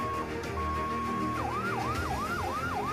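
An ambulance siren from the Rumah Sehat Baznas and Indonesian Red Cross wails at a disaster-readiness drill in Semarang, starting with a steady tone and then switching to a rapid rising-and-falling whoop, loud and close, with no speech over it.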